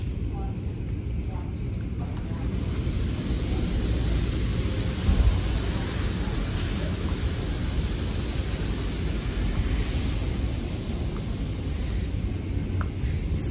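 Car wash tunnel machinery at a PECO car wash roars with a steady, dense broadband rush like a jet engine, continuous and loud throughout.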